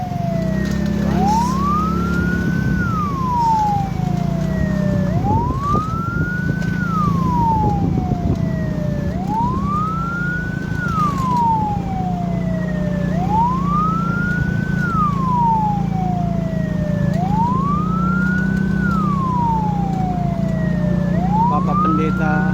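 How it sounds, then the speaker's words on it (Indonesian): An ambulance siren wails continuously during a funeral procession, its rising-and-falling tone repeating about every four seconds, loud and close over a steady low engine rumble. "Saya akan coba ikut dari belakang ambulans."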